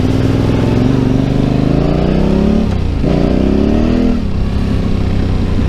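Yamaha Tenere 700 single-cylinder motorcycle engine revving up in rising pulls, dipping briefly between them, loud and close with a throbbing tone.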